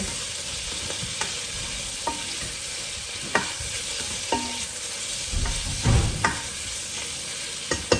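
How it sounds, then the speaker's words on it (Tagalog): Onion with red and green peppers sautéing in a pan, a steady broadband sizzle running throughout with occasional sharp clicks and scrapes of stirring, close and moderately loud, no talking. "Ito na, nagisa na ako dito ng onion, red and green pepper."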